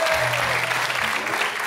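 Studio audience applause on a French television talk show, steady broadband clapping at moderate level filling the whole short stretch, with a low hum under it.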